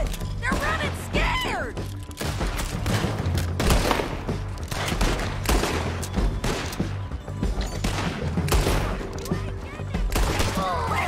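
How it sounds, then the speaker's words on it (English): Gunfire in the video game Red Dead Redemption 2 as shots are fired into a sheriff's office, dense rapid volleys and cracks throughout with voices talking over the shooting. "They shoot into the sheriff's office."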